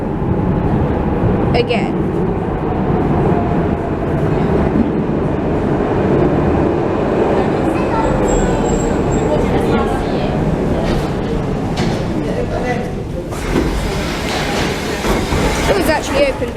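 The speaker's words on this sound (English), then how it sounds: "Here comes our train" A train pulls into a station in Budapest with a loud, steady rumble and rolling clatter that fills the whole stretch, a brief squeal rising near the middle, and people talking over it.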